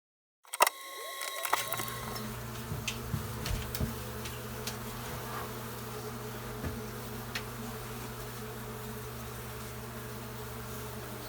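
After a sharp click, a steady, dense buzzing of many honeybees in a hive inside a wall settles in and continues throughout, with occasional individual bees droning closer.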